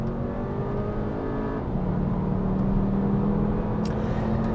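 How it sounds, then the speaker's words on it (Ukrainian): Synthesized engine sound of a Volkswagen Jetta GLI's EA-38 engine, played through an acoustic system: a steady drone held at high revs, pitch shifting slightly partway through; a smooth, continuous, synthetic-sounding roar without pauses. "Натискаючи на педаль газу, ви відчуваєте, як під капотом потужно починає співати ЕА-38."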